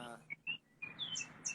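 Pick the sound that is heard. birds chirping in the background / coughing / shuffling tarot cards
birds chirping in the background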